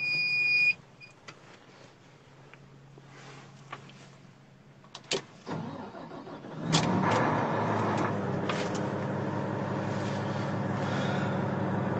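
Volvo L180H wheel loader starting up inside the cab: a warning buzzer and short beeps sound, then the engine catches and settles into a loud, steady low rumble that carries on to the end.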